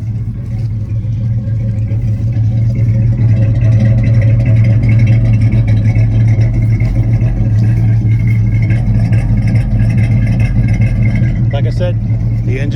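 A 1981 Camaro V8, rebuilt, with a Crane Fireball cam, runs steadily at idle with a strong low rumble and a faint clatter over 13 seconds, close and loud, with no other sounds on top.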